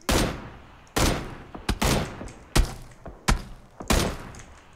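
Gunfire in the battle royale video game PUBG: loud, sharp shots land irregularly about six times, each with a booming tail, with no talk over them.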